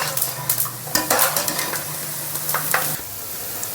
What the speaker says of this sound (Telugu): 1 కప్పు పల్లీలు వేయించుకుంటున్నాను.